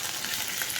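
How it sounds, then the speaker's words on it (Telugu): Curry leaves and dried red chilies hiss and crackle in hot tempering oil for an amaranth leaf dish, a brief, even, close sizzle with no voices. "ఇప్పుడు కరివేపాకు, ఎండుమిర్చి వేసుకుందామండి."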